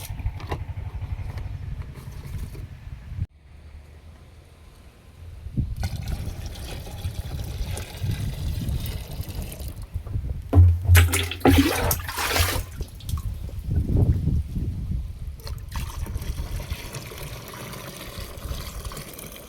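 Liquid pesticide is poured into a sprayer pump tank, a wet gushing and trickling that swells and fades in uneven bursts over a long stretch, with quieter pauses between pours and no speech.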